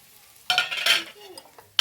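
Chopped onions tossed into a pan for chicken roast, with bursts of sizzling frying and scraping stirring, brief clinks of a spoon against the pan between louder strokes.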